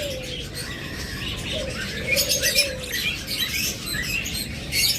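An opaline Forpus parrotlet pair chirps in short high twittering bursts, soft and fairly close, scattered over a low continuous rustling background with no voices.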